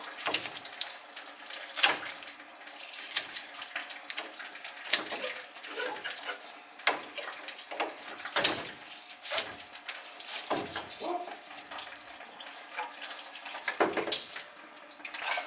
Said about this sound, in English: Gotta get the water to stop or I can't solder it